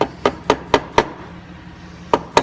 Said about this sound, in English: So a nice rubber hammer and a flathead screwdriver.